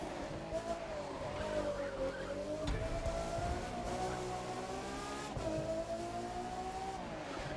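A 1,000-horsepower car engine revs hard while climbing a Pikes Peak–style summit course in The Crew 2, its steady high-pitched drone rising and falling with gear changes, loud and continuous throughout.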